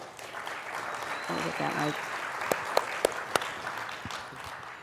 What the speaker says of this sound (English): Let's give Sean a round of applause.